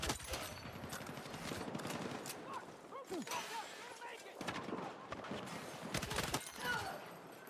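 A carbine fires in the video game Battlefield 6 in loud clusters of quick shots and short pauses, while someone talks over the shooting.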